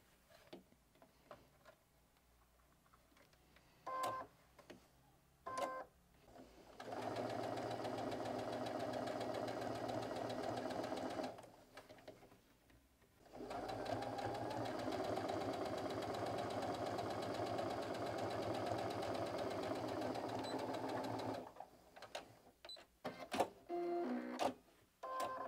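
Sewing machine topstitching a bias binding seam: two long runs of steady, rapid mechanical ticking, close and moderately quiet, with scattered handling clicks and rustles before, between and after them.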